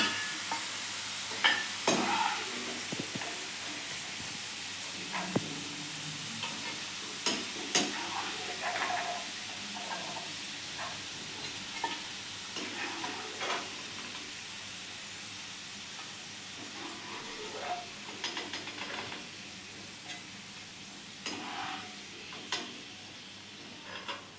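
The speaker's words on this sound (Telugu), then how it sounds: "ఇవి బ్రౌన్ కలర్ వచ్చే వరకు దీన్ని వేయించాలి" Bitter gourd slices fry in a pan while being stirred: a steady hiss of sizzling oil with repeated sharp scraping clicks from the stirring, close up and with no voices.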